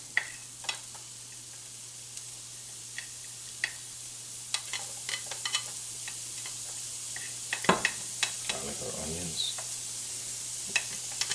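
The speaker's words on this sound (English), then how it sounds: "now that this is heated, we'll add our garlic, our onions" Garlic and onions added to a heated pan for sauteed kale, a faint steady sizzle broken by scattered sharp ticks and clicks of stirring, with a brief louder clatter partway through.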